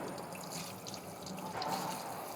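A part of a Miele built-in coffee maker is rinsed under a running tap, giving a steady, even hiss of flowing water splashing in a sink, close and continuous with no talking.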